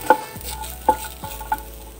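Fresh coconut dry roasting in a pan over a low flame without oil, stirred with a few distinct ringing metal clinks and scrapes about half a second apart, close, with no one speaking.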